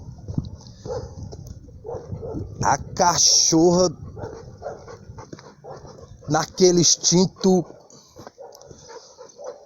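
Female guard dog at a gate barking in two loud bursts of several sharp barks each, separated by quieter stretches with a person talking nearby.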